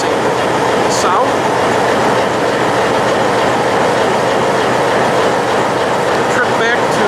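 An Adirondack Railroad train rumbles steadily throughout, its wheels clicking over the rail joints with a faint squeal. The sound is loud and continuous, and a few brief voices rise faintly in the background.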